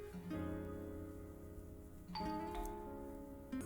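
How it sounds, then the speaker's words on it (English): Two-tone doorbell chime in the visual novel Kara no Shoujo, ringing twice over soft background music, the second ring starting about midway through, clear and moderately loud. "I hear the doorbell ring as I make my way to the living room."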